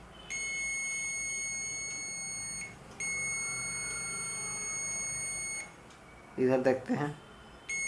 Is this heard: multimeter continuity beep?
yes